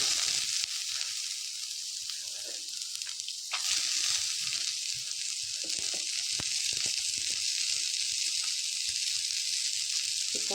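Onions frying in a pan for Mangalorean pathrode, a steady close hiss and sizzle with faint crackles and occasional stirring taps, continuous and fairly even throughout, no talk.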